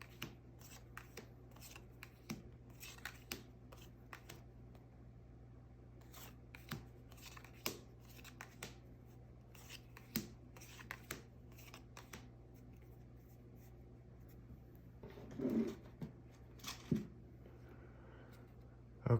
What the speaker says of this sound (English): Just shuffling and picking cards for the 3 groups here.